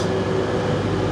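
Steady low rumble and hum of a Caledonian Sleeper train idling at a station platform, with a constant mechanical drone filling the space, no voices.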